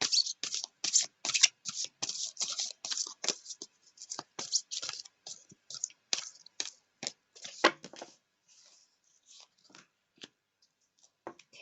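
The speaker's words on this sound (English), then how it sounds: "So now I'm going to pull the fortune reading cards." Tarot fortune-reading cards are shuffled by hand in quick bursts of crisp riffling and slapping close by, busy at first, then thinning into scattered soft taps and near silence.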